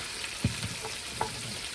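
Pork chops frying in a pan, a steady soft sizzle with a couple of faint clinks or stirs, heard alone.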